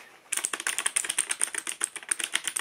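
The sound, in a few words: typing on a keyboard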